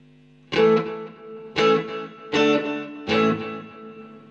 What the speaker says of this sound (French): il y a une reverb avec délai.